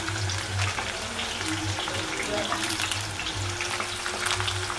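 French fries deep frying in hot oil for a rainy-day evening snack, a steady close bubbling sizzle running throughout with no voices.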